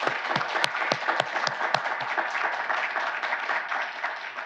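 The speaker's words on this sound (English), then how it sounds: "So please give him a round of applause." Moderate applause from an audience at a college panel discussion on housing vouchers, continuous with some sharper individual claps standing out.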